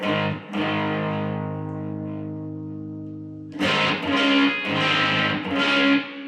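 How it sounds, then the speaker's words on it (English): An electric guitar played through a CVX Distortion pedal into a Yamaha THR5 amp gives a sustained fizzy distorted chord, then a short burst of loud, gritty strummed chords, heard alone. "Let's see what the CVX Distortion will sound like."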